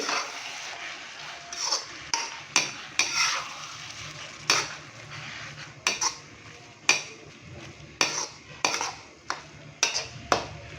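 A spoon stirs tomato paste with spices in a karahi for beef keema, scraping and clanking against the metal pan in repeated irregular strokes over a soft sizzle, close and distinct without talking.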